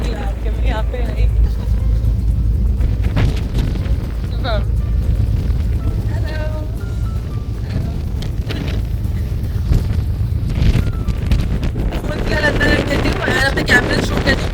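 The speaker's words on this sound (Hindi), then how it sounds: "बहुत ज़्यादा हवा चल रही है यहाँ पे भाई" Strong wind roars across a boat deck on the way to Phi Phi Island, Thailand, a constant loud buffeting rumble against the microphone, with faint voices now and then.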